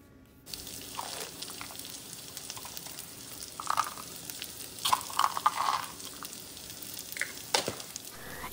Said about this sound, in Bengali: এদিকে একটা কড়াইতে 1 টেবিল চামচ ঘি নিয়ে ভালো করে গরম করে নিলাম। তারপর এর মধ্যে গাজর কুচিগুলো দিয়ে তার উপরে দিয়ে দেব কালো কিশমিশ।